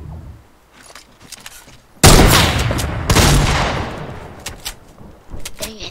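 Gunfire in the Fortnite video game: a loud burst of shots erupts suddenly and rolls into a long, dense fusillade that fades, followed by scattered fainter shots and game noise.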